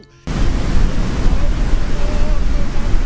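Ocean surf rolling onto the shore at a beach campsite in Lomé, Togo, a loud, steady wash of breaking waves with wind buffeting the microphone, starting abruptly after a brief quiet moment.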